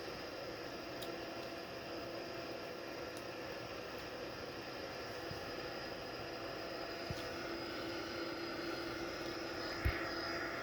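Steady, loud drone of Boeing 787 jet engines heard from inside the aircraft during a manually flown IFR flight, continuous and unchanging with faint clicks on top and no talk.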